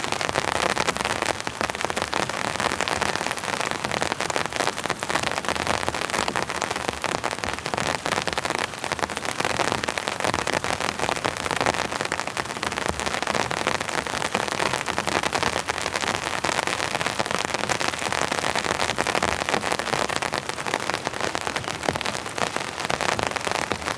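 Heavy rain drums hard on a winter tent, a dense unbroken patter of countless drops close overhead that holds steady from start to finish.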